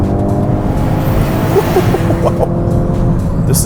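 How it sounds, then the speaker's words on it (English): A Hyundai Kona N launching hard with launch control, its engine droning loud and close with a steady, sustained roar and faint tire noise throughout. "I'm gonna hit it, and I'm gonna activate launch control and see if that makes a difference."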